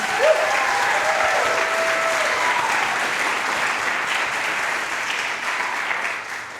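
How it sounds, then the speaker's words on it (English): An audience claps steadily and warmly for a wind ensemble at a video game music concert, a dense wash of applause that holds throughout and tapers slightly at the end. "Let's give another round of applause for the band"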